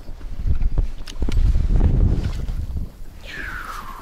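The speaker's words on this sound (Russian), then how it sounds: "Ветер ледяной" Icy spring wind gusting across the microphone while out fishing, irregular low buffeting swells rising and falling, with a brief faint whistle near the end.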